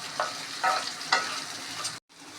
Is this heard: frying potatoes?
yes